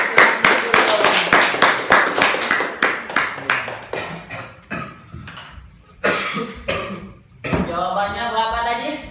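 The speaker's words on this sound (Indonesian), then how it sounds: "tepuk tangan dulu buat Dedita" A classroom of students claps for a classmate, a run of sharp, fairly close claps at the start that thin out into scattered taps, with a cough, a throat clearing and some voices mixed in.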